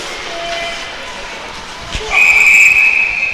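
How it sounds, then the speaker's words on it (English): A referee's whistle blows sharply during a junior varsity ice hockey game, one long shrill blast cutting through arena crowd noise and commentary. "And there's a whistle."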